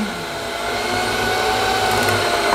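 An electric stand mixer whirring steadily and loudly close by while a chocolate-coconut prestígio cake is being made, with no talk over the motor.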